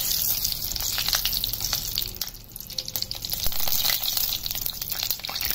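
Mustard seeds crackle and sizzle steadily in hot oil for a tempering, a dense close-up frying hiss with scattered sharp pops running through the whole stretch.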